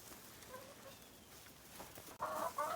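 Chickens cluck softly in a cold winter coop with fresh bedding, faint low calls at first, then a few louder, closer clucks toward the end over a quiet background.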